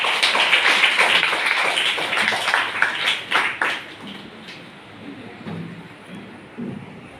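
Audience in a Christian revival gathering clapping hands together, a dense loud burst of applause for about four seconds that then fades into quieter scattered sounds.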